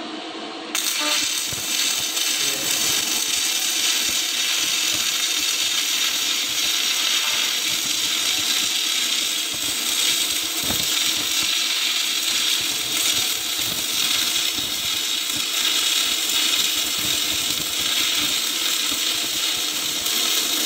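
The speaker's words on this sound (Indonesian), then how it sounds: "Setelah itu kita mulai melaksanakan sistem pengelasan." Electric arc welding runs as a continuous loud crackling hiss for about twenty seconds, bright and unbroken after a brief start, with no voices.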